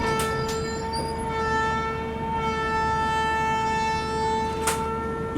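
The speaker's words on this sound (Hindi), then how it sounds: "और सामने अराइवल हो रहा है हटिया पुणे एक्सप्रेस का।" Hatia Pune Express train arriving at a station, a steady loud rumbling drone with sustained tonal whine throughout, plus brief sharp clanks near the start and end.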